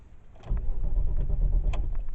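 An Audi A6 TDI quattro with a starting fault cranks without catching, a continuous low churning whirr lasting about two seconds, loud and close.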